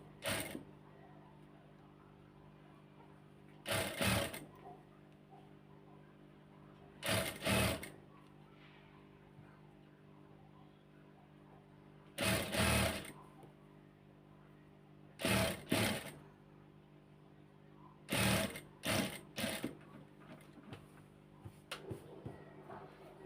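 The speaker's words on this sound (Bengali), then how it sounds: "এখান থেকে এখন আবারও এভাবে সেলাই করব।" A domestic sewing machine runs in about six short bursts of rapid mechanical stitching, each a second or so long, separated by quiet pauses with faint background hum.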